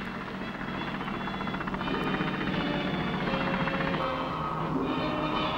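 Naval helicopters fly over the sea, dropping sonar during anti-submarine patrols from the Dutch carrier Karel Doorman: a steady, loud rotor and engine drone fills the air without a break, with no voices.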